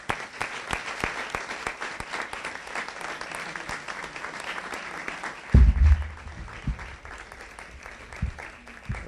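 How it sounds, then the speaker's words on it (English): A town board meeting audience applauds with sustained, even clapping from a roomful of people, interrupted midway by a brief low thump. "We could ask for a big round of applause for everybody."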